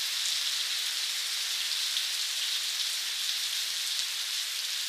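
Steady rain falls on a rainy day at the Access Bangladesh Foundation, a dense continuous hiss of drops that stays loud and even throughout, with no voices.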